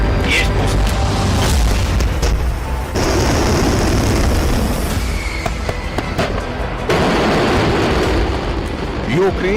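Ukrainian artillery or rocket launch against occupying forces: a loud, sustained roaring boom that fills the whole span, with voices mixed in.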